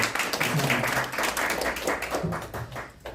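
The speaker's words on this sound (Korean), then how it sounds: "다시 한 번 더 박수 보내주시죠" An audience at a press meeting with overseas Korean journalists claps, a moderate patter of hands carrying on for a few seconds with some low murmuring mixed in.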